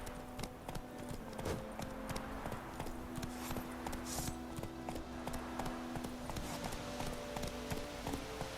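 Horse hooves in The Witcher 3, a steady rapid galloping clip-clop close by, running continuously over a low droning tone without pause.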